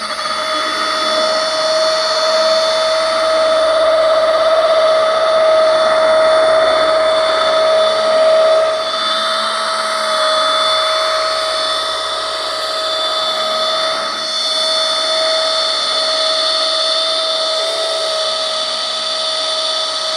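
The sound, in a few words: FLEX 24 volt rotary polisher running on paint with wool pad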